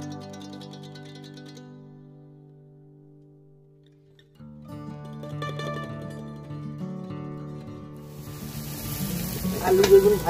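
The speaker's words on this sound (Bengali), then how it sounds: "আলু বেগুন ভাজা হয়ে গেছে" Potato and eggplant frying in oil in a wok, a steady near sizzle that starts quiet over background music and grows louder and busier with stirring toward the end.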